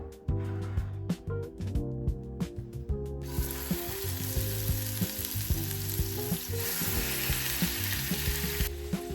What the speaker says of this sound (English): Then we're gonna put the pork loin to cook.